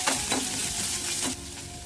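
Garlic and onion pieces hitting a hot pan, giving a loud, close, steady sizzle with a brief stir that softens toward the end.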